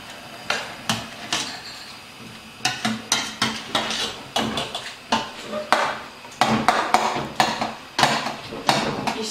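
A utensil stirs a pot of ndunda (amaranth greens) with muambe, knocking and scraping against the pot in a steady rhythm of sharp, close clanks with brief pauses between strokes.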